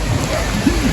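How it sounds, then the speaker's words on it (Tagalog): Steady rain noise, a dense broadband hiss with low rumbling underneath, fairly loud and close. "Ulan na naman dito."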